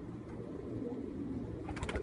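A domestic pigeon coos softly in a few low, rolling calls, faint and close, ending with some light scuffing clicks.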